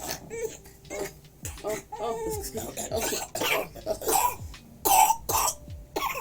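Repeated short coughs and throat-clearing bursts, close and fairly loud, mixed with speech throughout.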